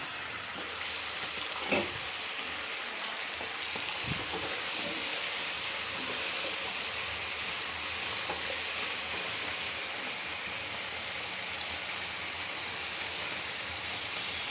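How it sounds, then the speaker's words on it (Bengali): Garlic and onion fry in a pan with a continuous hissing sizzle that lasts throughout, with an occasional clatter of stirring and no speech. "রসুন আর পেঁয়াজটা একটু ভালো করে ভাজা ভাজা করে নিতে হয়"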